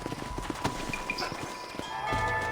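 Rhythmic hoof clip-clops from horses in the video game Red Dead Redemption, steady and moderately close, with a faint ambient hum underneath and no voices.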